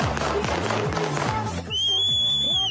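Shrill whistling by teenagers in Vynnyky rises as sustained, wavering high tones over a steady rhythmic background, growing clear in the latter half.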